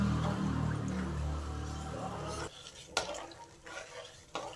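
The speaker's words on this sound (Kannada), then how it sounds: "ಬೆಲ್ಲ ಕರಗೋವರೆಗೂ ಹೈ ಫ್ಲೇಮಲ್ಲಿ ಇಟ್ಕೊಳ್ರಿ. ಇದು ಸ್ವಲ್ಪ ಕುದಿ ಬರೋವರೆಗೂ ಕೈ ಬಿಡಬೇಡ್ರಿ, ಹಿಂಗೆ ಕಲಿಸ್ತಾನೆ ಇರ್ರಿ" A ragi and jaggery mixture is stirred in a pot over a high flame, a soft steady bubbling swirl that cuts off halfway, followed by quiet scrapes and light knocks of the spoon.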